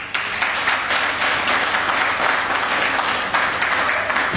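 Audience in a church setting applauding for the Bible school Naobi, loud steady clapping sustained for several seconds with a light crowd murmur.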